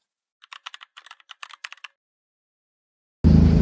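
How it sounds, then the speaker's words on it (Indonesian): Typing the proclamation text on a keyboard or typewriter in a historical school drama: a quick irregular run of about a dozen crisp close keystrokes, then silence before a loud low sound cuts in at the end. "Saya akan mengetik naskahnya."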